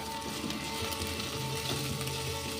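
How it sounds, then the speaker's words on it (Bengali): Onion fries in a spoonful of hot oil in a wok, a loud, dense, continuous sizzle with faint stirring and no pauses. "পেঁয়াজটা অল্প ভেজে নেব"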